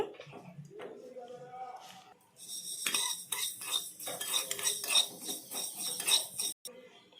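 Half a teaspoon of fenugreek seeds dry-roasting in a pan, with a utensil scraping and clinking against the metal in busy stirring bursts while a voice talks over the first part.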